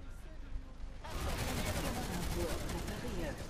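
Automatic gunfire in the online shooter Planetside 2 starts abruptly after a second of quiet and continues as a dense, sustained burst of shots to the end, with a voice faintly under it.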